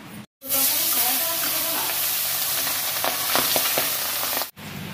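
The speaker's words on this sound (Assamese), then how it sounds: "এই মাছ ভাজি হৈ গৈছে" Fish frying in hot oil makes a loud, continuous hiss and sizzle with scattered crackling pops. The sound starts abruptly and cuts off sharply at the end.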